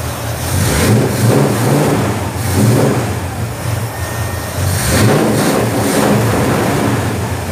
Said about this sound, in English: as you can hear, the engine still works